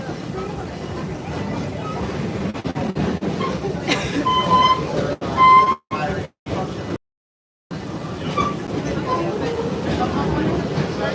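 A Busch Gardens theme park train rolls along with a steady, loud rumble and rattle of wheels on track, briefly cutting out for a few gaps, while voices speak over it.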